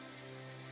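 Steady, noisy rain in the video game Psychedelica of the Black Butterfly, a continuous hiss with a low musical drone underneath.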